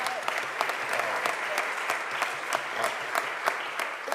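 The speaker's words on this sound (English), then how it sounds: "just give him a round of applause" Applause fills a Philadelphia City Council chamber during a budget approval session, a crowd clapping in a steady patter with sharper individual claps popping out, moderately close and continuous with a faint murmur beneath.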